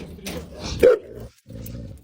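A dog barks a few times, sharp and fairly close, mixed with low voices and background noise.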